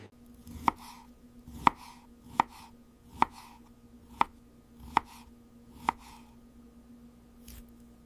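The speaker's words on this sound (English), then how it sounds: "Carefully cut them into long, even sticks" A knife slices fresh miniature mozzarella into long sticks outdoors, seven crisp, evenly spaced taps on a tiny board, close and clean against quiet.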